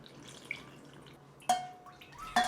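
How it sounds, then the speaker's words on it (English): Water is poured into tomato sauce in a pot during home cooking in a kitchen, giving a couple of brief, quiet splashes against a soft background hiss. "I'm gonna pour the water."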